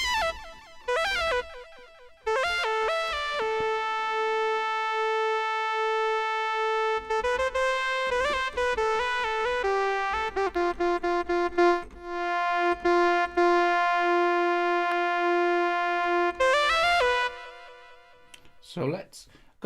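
An AUv3 synthesizer patch with a proggy character plays bright sustained lead lines with gliding pitch changes and stepped melodic runs, ending in a quick pitch sweep, close and full.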